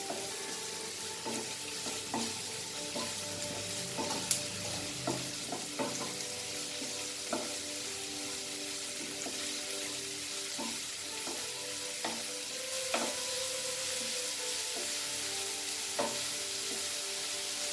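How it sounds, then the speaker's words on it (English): Food fries steadily in a pan, a continuous close sizzle broken by frequent light clicks and scrapes of a utensil stirring throughout. "Fry it very nicely."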